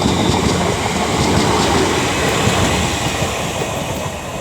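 An electric passenger train rolls into Milton Keynes Central station loudly and close, with a broad rushing rumble and faint rhythmic wheel clatter over the rails.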